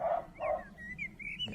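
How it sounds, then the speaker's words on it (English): Dogs bark close by in a backyard in England: two quick bursts of barking over outdoor ambience, with thin bird whistles threading through and a brief word from a person. "close by dogs was barking as well"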